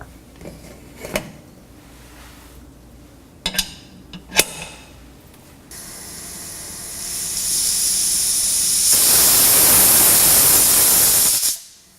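A few sharp clicks and rattles, then a loud, rising hiss of steam escaping a pressure cooker whistle, the sixth whistle while cooking deer meat, building into a sustained shrill blast before cutting off.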